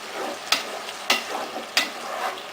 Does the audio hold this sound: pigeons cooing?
no